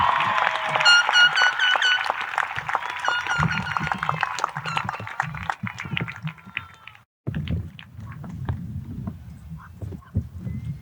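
A large crowd at a high school graduation ceremony applauds the graduating class of 2025, with loud sustained clapping, cheers and whistles for about seven seconds, then a brief pause and lighter, scattered clapping continuing.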